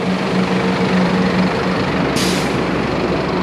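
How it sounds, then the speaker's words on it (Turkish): A double-decker tour bus on a street in Singapore, its engine rumbling steadily and close, with a short hiss of air brakes partway through. "Ve böyle iki katlı otobüsler var."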